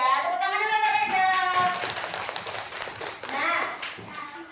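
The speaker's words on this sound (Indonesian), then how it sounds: "Tepuk tangan dulu untuk Reza." Children clapping for a classmate in an Indonesian primary classroom, a short burst of applause under a teacher's voice and children's chatter.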